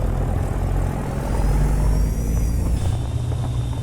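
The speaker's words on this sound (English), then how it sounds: "I'm gonna go ahead and roll my windows down here so we can listen to this beautiful truck" A Peterbilt 389 truck engine hums steadily while driving, heard through open windows, a continuous low rumble with road whir and a faint hiss near the end.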